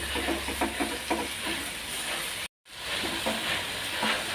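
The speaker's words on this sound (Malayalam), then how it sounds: "ഒരു വലിയ തക്കാളി ചെറുതാക്കി കട്ട് ചെയ്തതാണ് അത് ഇട്ട് കൊടുക്കാം നന്നായി വഴുതി" Chopped large tomato sizzling and hissing steadily in a hot pan, with occasional stirring clatter and a brief dropout midway.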